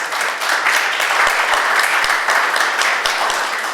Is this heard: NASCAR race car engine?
no